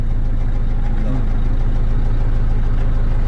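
A tractor engine idling as it warms up, a steady low rumble with an even throb that holds close and loud throughout, with a voice briefly audible over it.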